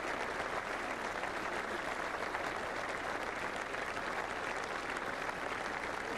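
A large crowd of veterans and onlookers at a Normandy commemoration gives steady, dense applause from many hands, a continuous wash of clapping heard from within the gathering.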